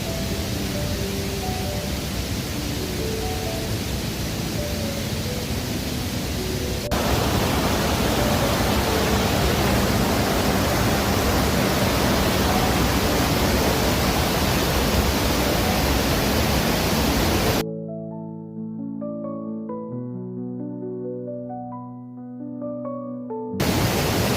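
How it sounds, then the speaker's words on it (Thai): Tad Non waterfall in Na Yung-Nam Som National Park, Udon Thani, pouring hard: a loud, steady broadband roar of strongly flowing water, close by, with a brief quieter stretch near the end where faint tones sound beneath it. "มาดูอีกมุมนี้ก็สวยครับ น้ำไหลแรงมากเลย"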